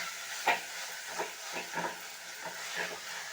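Onions and tomatoes with ginger garlic paste sauté in a pan for a mutton kulambu, giving a steady close sizzle with a few soft stirring scrapes spread through it and no talk.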